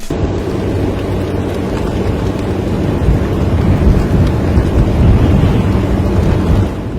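Heavy tropical rain and wind roar around an open vehicle travelling about 100 km/h on Upolu, Samoa: a loud, constant rushing noise with deep buffeting and no voices.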